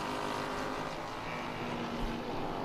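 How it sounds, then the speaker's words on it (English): A Ligier pushrod V4 race car from the F4 U.S. series at a racetrack gives a steady droning exhaust note, a continuous engine tone heard at a moderate distance without any speech. "These cars with a very, very different exhaust note than the other two cars that we run in our 2 series"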